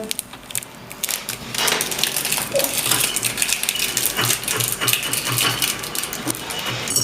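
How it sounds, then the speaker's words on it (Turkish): Noodles being stirred with sauce in bowls, with steady clinking and scraping of utensils against the dishes throughout, fairly loud and close. "Hadi karıştırın bakalım noodle'larınızı."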